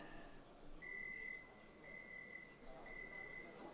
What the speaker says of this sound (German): die Türen schließen sich mit so einem leichten Piepsgeräusch